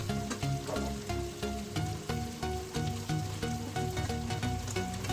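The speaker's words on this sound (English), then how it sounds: "Let them saute on high heat at least for 5 minutes" Onions sautéing over high heat in a pan for paneer butter masala give a steady crackling sizzle, with regular clinks of a spoon against the cookware standing out above it, and nobody talks.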